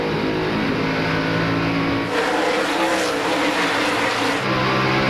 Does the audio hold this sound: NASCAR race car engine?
yes